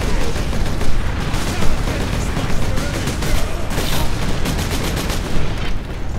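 Continuous battle noise from Warhammer 40,000: Space Marine, with rapid gunfire bursts and heavier cannon booms layered into a loud, dense, unbroken barrage.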